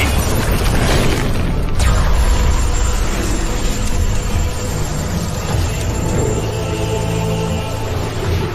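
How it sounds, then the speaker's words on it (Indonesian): Lightning blasts from an animated Journey to the West story, a loud dense rumble with booming bursts throughout, heavy and continuous with no clear gaps. "Dewa Barat yang kesal karena tak menemukan apa-apa mengamuk dengan melepaskan tembakan-tembakan petirnya, berharap Dewa Rulai keluar."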